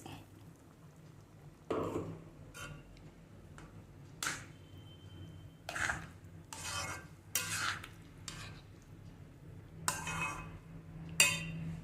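Vegetable kurma stirred in a pot, with a quiet run of sharp scrapes and clinks from the spoon at irregular intervals over a low background hum.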